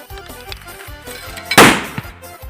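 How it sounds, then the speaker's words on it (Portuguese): A single lipstick firecracker (bomba batom) bursts at a June festival night, one loud sharp crack partway through, followed by a brief decay amid quieter low background noise. "Tem uma caixa de bomba batom ali aberta aí em cima aí, tá saindo aí atrás pra nós começar a inaugurar esse negócio"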